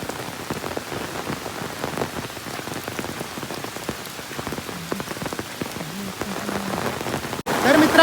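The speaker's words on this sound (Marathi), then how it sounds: "तर मित्रांनो पाऊस खूप जोराचा चालू झाला आहे" Heavy rain pours steadily on the road to a waterfall near Khopoli, Maharashtra, a dense close patter and hiss of drops striking surfaces that stays loud and constant, with a faint low voice briefly under it.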